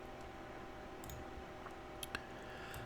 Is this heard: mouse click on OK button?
yes